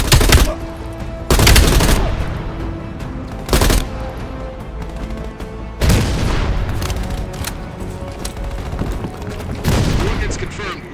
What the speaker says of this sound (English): Orders confirmed. Bombing strike imminent.